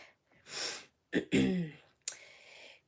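A few short throaty coughs and breathy exhales, close to the microphone, with brief gaps of silence between them.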